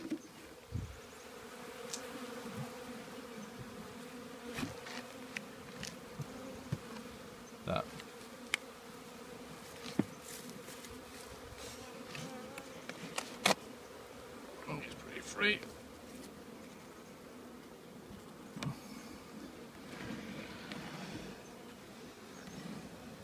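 Honey bees buzzing steadily during an open inspection of a nuc hive, a soft continuous drone that fills the whole stretch, broken by scattered handling knocks and clicks of the frames.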